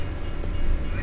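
Graffiti-covered train from Farming Simulator 19 rolling past a station platform on rusty rails, a loud, dense continuous rumble with rattling wheel noise, up close, with no talking.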